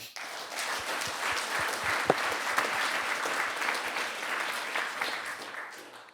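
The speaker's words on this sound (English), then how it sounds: "We'll give one more round of applause to the speaker." Audience applause for a speaker at a space resources conference, a sustained round of clapping from a mid-sized crowd, even and moderately loud with a few closer claps standing out.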